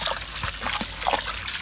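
Water trickles and splashes steadily while a backyard pond filter is back-flushed, a close, even, hissing flow with no voices over it.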